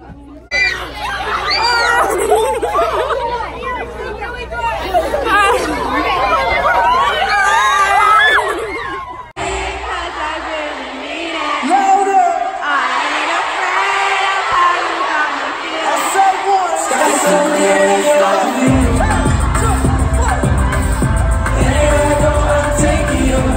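A crowd at a concert in Minnesota fills the scene with loud, continuous screaming and cheering, mixed with music and blaring sound throughout.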